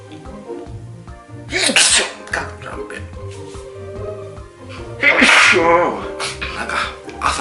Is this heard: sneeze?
yes